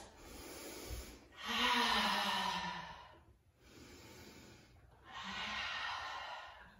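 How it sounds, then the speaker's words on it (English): Two slow, deep breaths during a kids yoga pose, each a long airy exhale with a quiet pause between, close and soft with no talking. "Two deep breaths."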